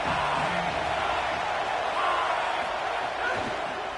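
Steady, dense stadium crowd roar from a college football video game fills the whole stretch at a loud, even level, with a faint rise of cheering near the middle.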